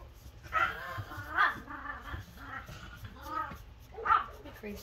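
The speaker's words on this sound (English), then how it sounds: "Did you guys hear him barking?" A dog barks and yips in short bursts at a medium distance, with people chattering throughout.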